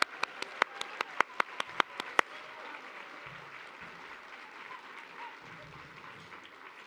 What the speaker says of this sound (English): let's give all of our finalists a round of applause today